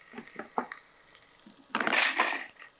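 Garlic with turmeric and salt is sautéed in hot oil for garlic milk rice: a few light scrapes of a spoon in the pan, then a loud burst of sizzling frying that gradually settles.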